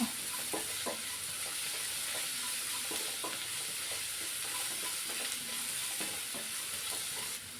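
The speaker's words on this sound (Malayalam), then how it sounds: "ഇനി നന്നായിട്ടൊന്ന് ഇളക്കുക." Onions fry with salt in a pan and are stirred, giving a steady, close sizzling hiss broken by regular scraping strokes of the spoon, with no talking.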